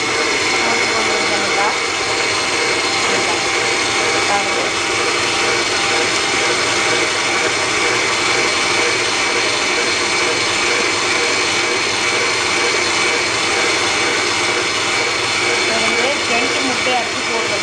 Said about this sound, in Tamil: பட்டரும் சுகரும் வந்து நல்லா மிக்ஸ் ஆகி கொண்டிருக்குது